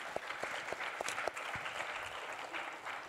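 Faint audience applause at a fiction reading event, scattered claps rising into a soft, steady patter heard from a distance.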